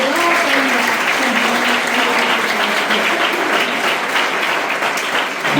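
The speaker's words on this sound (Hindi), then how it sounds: "सर आपके लिए एक जोरदार तालियां।" An audience at a residential high school honour ceremony breaks into steady, dense applause that holds at an even level throughout, with a voice faintly audible beneath it.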